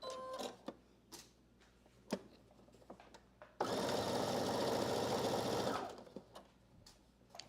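Sewing machine stitching dress pockets at a 5/8-inch seam allowance, running in one steady loud burst of about two seconds, with quiet handling clicks and rustles before and after.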